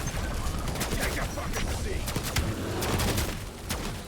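Automated point turrets fire at a high-level boss in Black Ops 7 Zombies, a dense, continuous clatter of rapid gunfire and blasts. A game soundtrack and effects play underneath, loud and close throughout.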